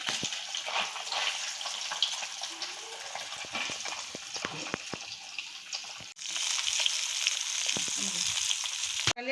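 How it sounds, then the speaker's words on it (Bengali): Small tapra fish fry in hot oil in a village kitchen, a continuous close sizzle and crackle with bursts of popping, steady throughout with a brief dip and louder resurgence. "তাপড়া মাছগুলো আগে ভেজে নিচ্ছি"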